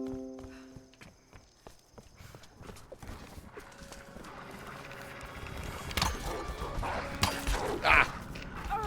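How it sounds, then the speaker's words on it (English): Wolves attacking in the Tomb Raider video game: paw-like footsteps and scuffling build up over a steady game ambience, growing louder toward the end with sharp snarling bursts near the close. "Immediately attacked by dogs while alone."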